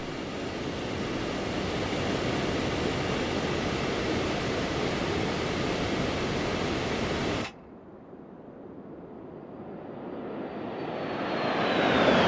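Steady broad roar of Phenom 300 jet engines in the X-Plane 12 simulator, which drops abruptly to a quieter whooshing hum partway through and then swells again near the end.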